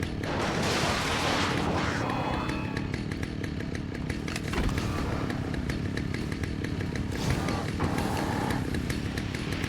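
Chainsaw in the Alan Wake video game, a loud continuous buzzing snarl with revving surges that runs the whole time and stays close, with no talk over it.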